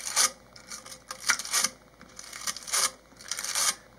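A brush scrubbing silicone out from between the contacts of a PCM during a Hydra installation, with short back-and-forth rasping bursts in an uneven rhythm, close up and alone.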